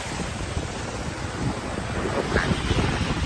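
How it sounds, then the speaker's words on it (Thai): Flash flood water pours down from Doi Suthep across a road beside an irrigation canal, a steady, broad rushing roar with wind buffeting the microphone throughout. "ตรงนี้เลยน้ำป่ากำลังไหลลงมา จากดอยนะครับเนี่ยครับ"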